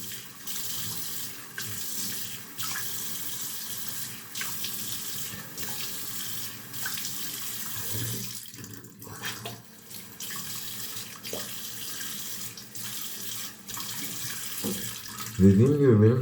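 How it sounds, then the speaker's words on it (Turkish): Tap water runs steadily into a sink as someone washes their face, a continuous close splashing hiss with brief interruptions from hands and a short pause midway. "Yüzümü yıkıyorum bu arada."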